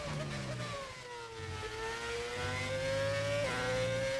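A modded race car engine in a racing video game revs and shifts gears, pitch rising then dropping at each change, loud and continuous with synthetic, game-like tone.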